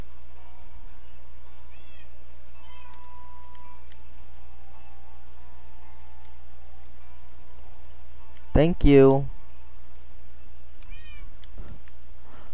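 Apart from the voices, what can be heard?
cats meowing in Minecraft modpack video game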